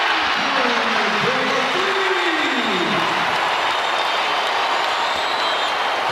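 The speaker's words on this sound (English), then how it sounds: "in a crowd in an uproar" A basketball arena crowd roars after a made basket at a Providence home game against Creighton, a dense, loud, sustained wash of cheering that fills the whole stretch without letting up.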